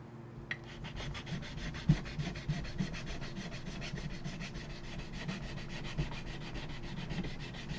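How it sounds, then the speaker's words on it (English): Close, steady rasping strokes of sanding and filing plastic model parts repeat in a brisk rhythm, scratchy and dry, with no voices. "All the filing and sanding and grinding and everything."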